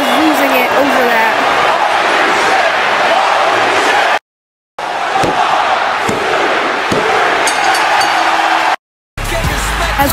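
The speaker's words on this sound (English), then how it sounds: "as this crowd is losing it over that" A wrestling video game arena crowd roars loudly and steadily after a match, the dense cheering broken by two brief cuts to silence, with a voice talking over the din.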